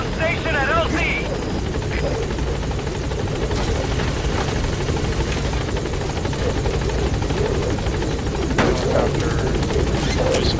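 A helicopter in the Metal Gear Solid 5 video game arrives at a landing zone, its steady loud rotor buzz filling the whole stretch while voices talk over it.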